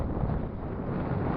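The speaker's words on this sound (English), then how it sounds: "it was really windy at that moment there" Strong, steady wind buffeting the microphone at Catterline Bay on Scotland's east coast, a continuous low roaring rush with no pauses.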